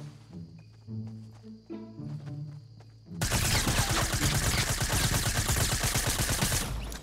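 Sustained SMG fire in Fortnite Battle Royale bursts in loud and dense after a few seconds of quieter game music and tones, then rattles on steadily to the end.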